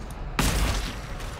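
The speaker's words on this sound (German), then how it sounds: "Zweiter Schuss hat getroffen." A single sniper rifle shot in the video game GTFO, a sudden loud blast that decays into a rumbling tail over background game noise.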